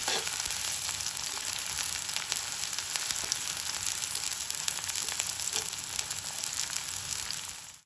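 Chopped shallots sauté in hot oil with fenugreek, a steady, close, dense sizzle running throughout with faint stirring clicks underneath.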